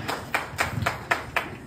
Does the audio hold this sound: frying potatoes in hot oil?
no